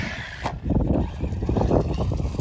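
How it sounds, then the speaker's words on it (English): A mini Kraton RC car bashing on the beach whirs steadily as it drives and jumps, with a sharp knock early on and bumpy rattling under the close, continuous motor noise. "It's probably the best jumping RC car I've ever had."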